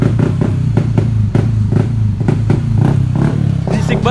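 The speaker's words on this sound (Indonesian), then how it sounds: "bisik banget ya kan, knalpot baru nih." Vespa Sprint scooter with a new exhaust idling loudly up close, a deep throbbing engine note with sharp repeated exhaust pops and small throttle blips in an uneven rhythm.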